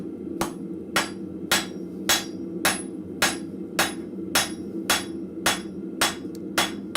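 A blacksmith hammers tong nibs on an anvil, drawing them out to four inches: about a dozen sharp, ringing metal blows at a steady rhythm, close and clear, with no talk over them.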